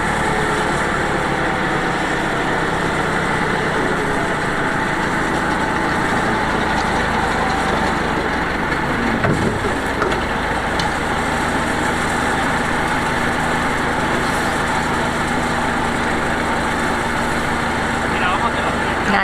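A digger engine runs steadily throughout while olive branches are cleared from a drive, a continuous mid-level drone with occasional clunks, and a voice talks over it.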